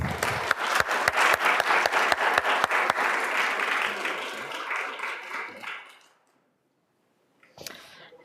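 Audience applause at an evening lecture in a modern city venue, loud dense clapping with sharp individual claps, fading out to silence after about six seconds, then a brief faint burst of noise near the end.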